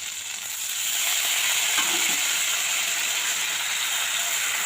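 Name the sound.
water poured into frying spice paste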